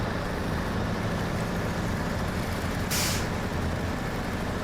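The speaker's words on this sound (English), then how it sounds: "the Avenhorn is a very capable truck with chains on its tires" An Avenhorn truck with chains on its tires, in a video game set at Lake Ribiere, Quebec, idles with a loud, steady engine drone. A short hiss of its air brake bursts out midway.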